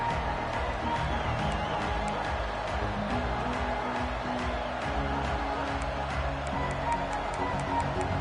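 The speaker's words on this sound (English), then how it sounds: "This crowd ready to make its presence known." Dense, steady roar of a large football stadium crowd at a Bruins game, holding at a constant level throughout, with faint ticking and a hint of commentary underneath.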